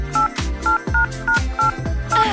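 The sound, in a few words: telephone number being dialed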